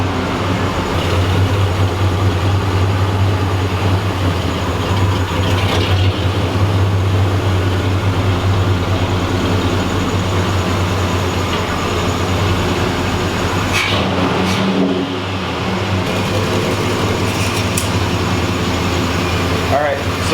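A 1986 Oldsmobile Cutlass pulled from a junkyard runs with its wheels turning, giving a steady, loud low engine drone and rumble that holds for the whole stretch, with a brief mechanical rattle midway.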